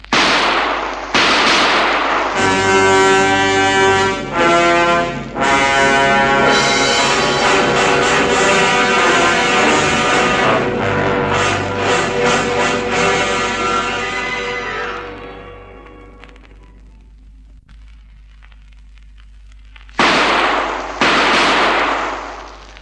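Gunshots in a crime audio drama, set on a city sidewalk at about 1:20 a.m. Loud, dense sharp bursts and rumbling reports fill most of the passage, fade to near quiet, then return as two more sharp blasts near the end.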